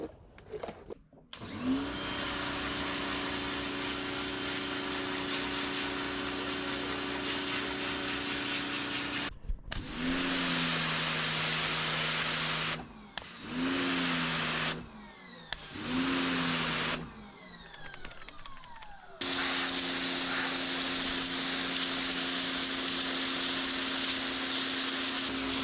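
A Kincrome 2600psi pressure washer with a turbo nozzle runs as a loud, steady motor whine with hissing spray. It cuts out and restarts several times in short bursts, then settles into a long continuous run, with no talking.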